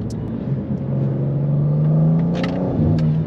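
BMW G87 M2 sports car engine revving with DSC off in an industrial area, a steady close rumble with a slowly rising pitch, then a brief throttle blip near the end.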